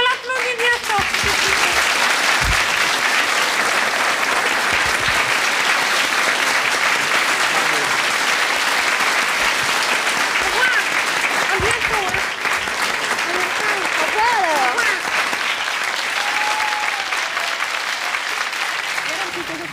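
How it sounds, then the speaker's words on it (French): A television studio audience at a 1986 RTBF variety show gives sustained, dense applause, loud and continuous throughout with no speech over it. "Allez, on l'applaudit bien fort."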